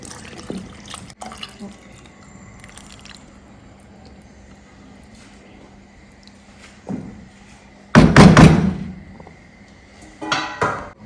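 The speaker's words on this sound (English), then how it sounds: "I'll go ahead and add my stock." Stock poured into a goat meat stew gives a short, loud splashing gush near the end, following quiet pot handling, faint clinks and a low kitchen hum.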